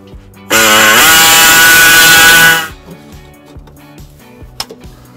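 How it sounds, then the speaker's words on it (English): Air saw enlarging an access hole in a 2015 Subaru Legacy frame for a trailer hitch, a loud buzzing, rattling burst lasting about two seconds, followed by quiet clicks and knocks. "We're going to use an air saw to expand the hole."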